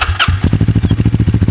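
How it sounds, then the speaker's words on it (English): A Kawasaki Ninja 650 fitted with an Akrapovic exhaust cranks and fires up loudly, then settles into a close, rapid, pulsing idle. "here's the new startup with the Akrapovic exhaust"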